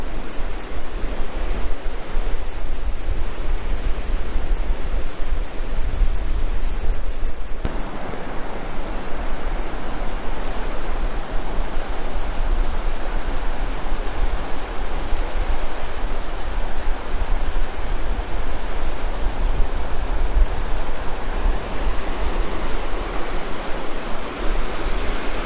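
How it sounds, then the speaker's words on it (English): Southern Ocean surf on a South Australian beach, a steady broad roar of breaking waves that holds loud and continuous throughout, with some wind over the microphone and no voices. "Southern Ocean"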